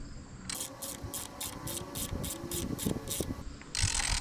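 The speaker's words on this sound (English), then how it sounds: "take that ratchet. Yeah, just keep cranking on it" A ratchet being cranked to tighten a strap or load at an outdoor sawmill-and-lumber worksite, giving a run of about ten evenly spaced, sharp metallic clicks close by, then a brief pause and a louder burst.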